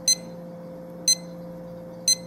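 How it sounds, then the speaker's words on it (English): Short high electronic beeps from a Robic SC-707W stopwatch pacer repeat at a steady one-per-second pace, three in all, over a low constant hum. "So that means it's going to beep every second."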